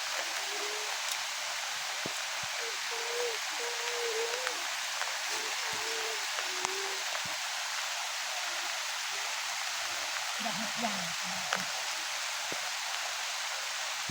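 Heavy rain falls on an open farm field, a steady broadband hiss that holds at an even level throughout, with brief faint vocal sounds surfacing now and then beneath it.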